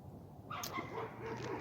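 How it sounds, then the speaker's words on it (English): Several dogs bark, yip and whimper excitedly in a continuous agitated jumble, moderately close and fairly loud, with no clear pauses between the calls. "those dogs are losing their minds"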